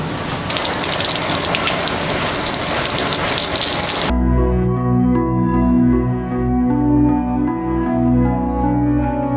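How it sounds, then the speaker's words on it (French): Shower running, a loud dense rush of falling water for about four seconds that then cuts to a quieter tonal background. "Allez, petite douche."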